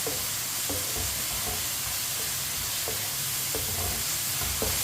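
Spinach cooks in a pan with a constant loud sizzle and hiss, punctuated by regular scraping stirs every half second or so, with no talking.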